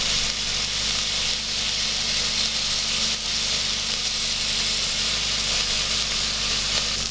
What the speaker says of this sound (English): a pan, a little bit of oil, and I'm going to fry all this off for about 10 minutes, first the onions only